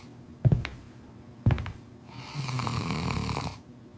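A man snores loudly in a quiet room: two sharp snorting inhales followed by a longer, rattling drawn-out snore, close and with no talk over it.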